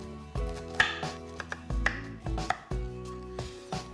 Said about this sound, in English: I'm gonna start by peeling, coring, and slicing up my pears.